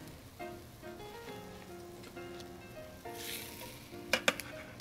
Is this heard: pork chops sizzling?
yes